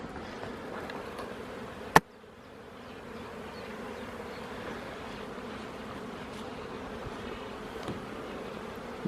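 Honeybees fly around hives at a spring apiary, a steady near buzz of many wings with one sharp click early on and no talking.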